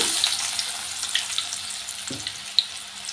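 Sliced onions frying in a pan alongside chicken liver and cloves, a steady close broadband sizzle with a couple of brief utensil clicks, no voices.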